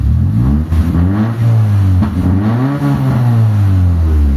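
A Mitsubishi Lancer engine with the air conditioning off revs up and down in steady surges, loud and close, a deep rumbling tone that rises and falls without any talking.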